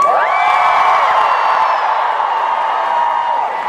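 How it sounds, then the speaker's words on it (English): An audience at a Psych convention panel at San Diego Comic-Con cheers and whoops loudly and continuously, shrill voices rising over a dense crowd roar throughout. "Let's hear a cheer for Suck It."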